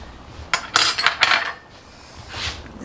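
Metal utensil scraping and clinking against a pot while black bean chicken chili is stirred, a few close bursts of scraping with a softer scrape near the end, no talking.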